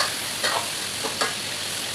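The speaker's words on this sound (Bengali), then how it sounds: "মাঝে মাঝে ঢাকনা তুলে নেড়ে দেব।" Chicken curry (broiler chicken) frying in oil in a pot, a close, continuous sizzle with a few sharp scrapes of a spoon stirring the meat, no voices.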